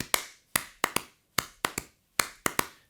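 Reverse three-stroke ruff drum fills played with a swung triplet feel: a series of crisp, close strokes in uneven clustered groups of two and three, alone without talk.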